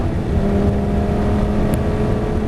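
A Lamborghini Gallardo lapping the Nogaro circuit, heard from on board: a loud, steady engine drone with a sustained low rumble throughout.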